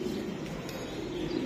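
Racing pigeon cooing close by, a low steady throaty murmur running through the whole short moment with no talk over it.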